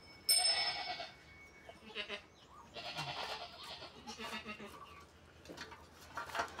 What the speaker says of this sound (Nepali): त्यो चाहिँ आज मात्रै ब्याएको बाख्रा।